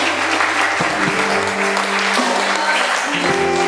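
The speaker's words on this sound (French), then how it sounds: "Acclamons royalement l'Esprit de Dieu." A church congregation claps and cheers together during a worship service, a dense, continuous roar of applause and acclamation that holds steady throughout, with sustained musical tones beneath it.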